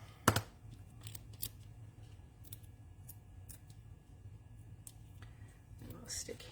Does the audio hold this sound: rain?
no